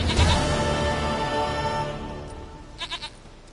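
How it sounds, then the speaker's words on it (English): A goat in The Witcher 3 video game lets out a long, loud, wavering bleat that fades over a couple of seconds, then a few short quieter bleats. "Goat of mine, dearest, sweetest goat."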